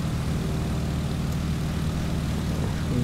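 Biplane propeller engine in the Microsoft Flight video game, a steady loud droning hum with a low throbbing pulse that holds constant throughout, no voices over it.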